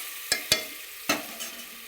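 Soaked dal being stirred in a cooking pot, with three or four sharp spoon knocks against the metal at uneven intervals over a quiet background.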